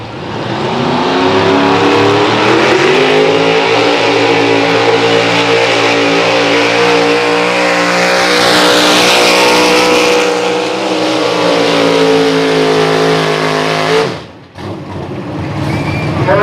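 A pulling truck at a truck pull in Berryville roars at high revs, a loud, sustained engine drone with shifting harmonics that holds for about fourteen seconds, then cuts off abruptly before picking up again.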